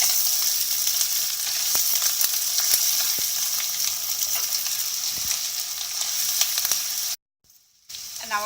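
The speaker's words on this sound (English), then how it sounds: "because there's still enough oil left in the pan, we are able to still fry our onions" Onions frying in leftover oil in a pan, a continuous close sizzle with light crackle and occasional stirring scrapes, broken by a brief dropout near the end.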